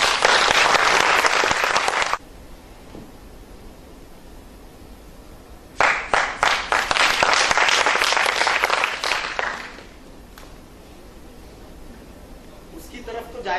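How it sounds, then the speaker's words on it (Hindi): Audience at a training session applauding in two bursts, a loud spell of clapping at the start, then a pause, then a second lively round before it fades. "जोरदार तालियां इनके लिए बजाएं"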